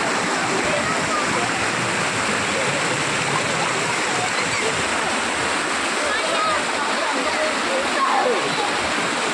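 Steady, full rush of the Panchalinga waterfall at Thirumoorthy and its flowing water, loud and continuous throughout with a dense, even roar.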